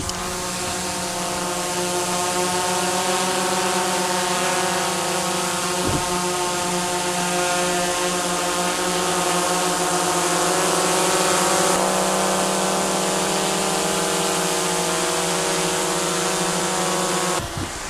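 A DJI Mavic Pro Platinum drone hovers right up close, its motors and propellers giving a loud, steady whirring buzz with layered tones that holds for the whole stretch, with no talking.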